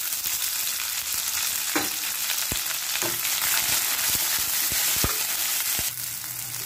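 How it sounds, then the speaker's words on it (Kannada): Chana dal and urad dal fry in hot oil in a pan with curry leaves, giving a continuous crackling sizzle with scattered sharp pops and faint stirring scrapes, close and steady. "ಕಡಲೆಬೇಳೆ ಮತ್ತು ಉದ್ದಿನ ಬೇಳೆ 1 ಟೀಸ್ಪೂನ್ ಹಾಕ್ಕೊಂಡಿದ್ದೀನಿ. ಸ್ವಲ್ಪ ಫ್ರೈ ಮಾಡ್ಕೊಳ್ಳಿ."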